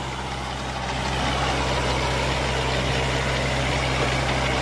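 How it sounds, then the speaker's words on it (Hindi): A Kubota 4x4 tractor engine idles nearby, a steady low diesel drone with a constant hum that grows slightly louder after the first second. "इस ट्रैक्टर को 8 फीट का रोटावेटर चलाने में दिक्कत नहीं आती कहीं भी"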